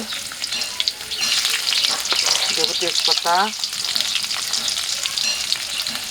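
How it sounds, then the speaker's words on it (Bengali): Garlic, onion and dried chili fry in hot oil with a dense, continuous sizzle close to the microphone, while someone talks briefly over the crackling midway through. "তেলটা গরম হয়ে গেছে, এবার আমি তেলের মধ্যে রসুন পেঁয়াজ এগুলো দিয়ে দেবো সব কিছু"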